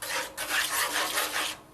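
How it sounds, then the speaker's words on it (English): A utensil scraping steadily back and forth through pepper-laced rabbit gravy in a pan, close and continuous with a rough rasping texture and a brief pause partway through. "you're going to keep on stirring back and forth until you get the thickness you want"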